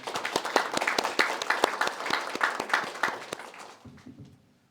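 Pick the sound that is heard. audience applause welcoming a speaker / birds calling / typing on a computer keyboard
audience applause welcoming a speaker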